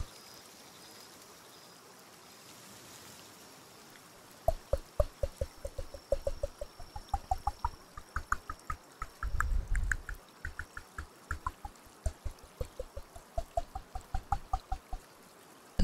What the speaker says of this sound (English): Watering. Holy shit. drowning the plants.